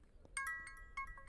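A phone rings with a bright, electronic ringtone in two short bursts of layered tones, fairly quiet, set against faint room noise with no talking.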